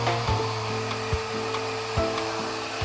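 A hair dryer fitted with a diffuser runs on its lowest heat and airflow setting while drying curly hair, giving a steady close whir with a few soft bumps and knocks.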